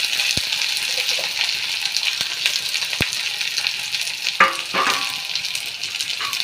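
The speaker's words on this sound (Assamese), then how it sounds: "পিঁয়াজ এতিয়া অলপ পালত কৰি দিম আৰু পিঁয়াজ মই ব্ৰাউন কালাৰ হোৱালৈ ভাজিম" Onions fry in hot oil as the start of a chicken gravy, giving a steady, close sizzle with a few sharp scrapes and knocks of stirring.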